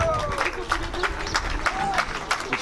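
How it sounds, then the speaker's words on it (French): Crowd clapping in a loose, rhythmic patter with scattered voices and murmurs mixed in, moderately loud. "on les applaudit une dernière fois avant de s'en séparer"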